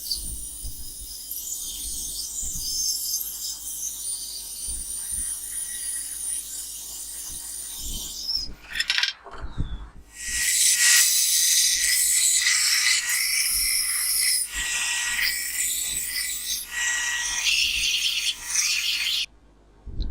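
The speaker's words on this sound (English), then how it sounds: "I'll just need to cut off the gates and trim the parting lines." Gates and parting lines are cut and trimmed off a metal casting, with sustained loud rasping and grinding strokes, a brief pause midway, then more intense abrasive rubbing, close and without talking.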